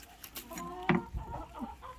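Hens clucking in a poultry farm shed, several close, soft clucks and short calls scattered over a low background, with one louder squawk near the middle.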